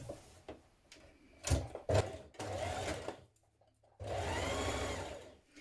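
Domestic sewing machine stitching a trouser seam with a 1.5 cm seam allowance, running in several short bursts and then a longer steady run, close and fairly quiet with no talking.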